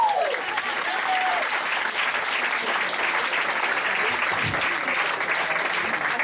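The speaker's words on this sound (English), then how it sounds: "Please clap for Mel Garlic" Studio audience clapping for a guest on a comedy talk show, dense continuous applause at an even level throughout, with faint voices mixed in.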